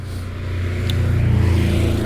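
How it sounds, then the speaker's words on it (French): A licence-free microcar passes close by on a road, a low engine drone that swells steadily louder over two seconds, with no talk over it. "Une voiture sans permis, eh ben on n'aurait pas dit"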